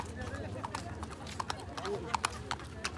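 Horse hooves clip-clop in an uneven, steady rhythm on the tourist riding paths at the Tangkuban Perahu volcano crater near Bandung, heard close under continuous chatter from people nearby.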